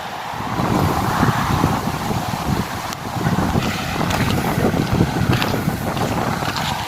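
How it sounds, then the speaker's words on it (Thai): A steady, loud rush of floodwater flows without pause beside Route 226 in Thailand, mixed with gusty wind buffeting the microphone. "น้ำไหลครับ"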